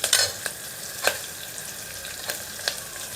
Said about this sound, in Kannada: ಇವಾಗ ಈರುಳ್ಳಿ ಫ್ರೈ ಆಗ್ತಾ ಇದೆ.